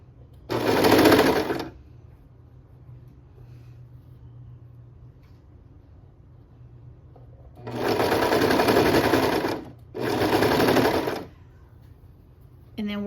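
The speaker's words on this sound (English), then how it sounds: "we are going to sew down just a little bit to right there before we hit that second" A sewing machine stitching down a strap runs in three bursts: one short run, a pause, then two longer runs close together, loud and near with quiet room tone between.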